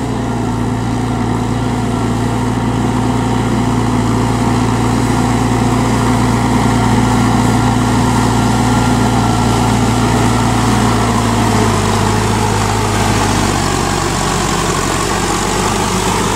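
A Massey Ferguson tractor's 4400cc diesel engine idles steadily and loud, a constant low drone with a deep harmonic hum that barely shifts for the whole stretch, no voices over it.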